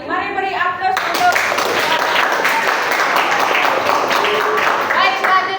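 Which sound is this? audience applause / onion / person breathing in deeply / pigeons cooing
audience applause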